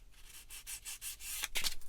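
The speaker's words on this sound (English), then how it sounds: "And then the vents as well, I'll give them a little sand." Sanding the plastic vents of an eModels Cat-Cat model kit by hand, a series of short, close scratchy rubbing strokes in a steady rhythm, growing a little busier and rougher toward the end, with no talking.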